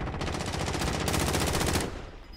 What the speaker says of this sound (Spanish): Se escuchó un balazo.